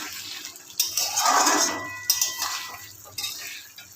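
Chopped coriander being mixed into an onion-stalk chorchori in a pan: a soft, close scraping and rustling of a utensil through the vegetables, with a few sharper knocks against the pan.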